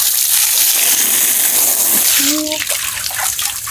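Water gushing hard into a tub used to wash catfish, a loud continuous rush, with a brief voice breaking in near the end.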